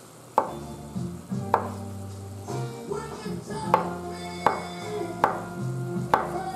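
Cleaned portobello mushrooms are sliced with a knife on a board, giving sharp, evenly spaced cuts about once a second over a low background hum.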